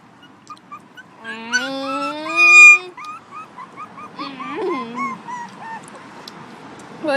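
A dog whimpers close by in a string of thin, wavering whines and yips, rising in the middle and breaking into short cries, with a brief human voice between.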